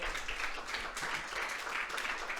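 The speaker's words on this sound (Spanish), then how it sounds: "un aplauso para Mateo" Audience applause at a church Bible teaching, a short, steady patter of many hands clapping at moderate distance, with no voices over it.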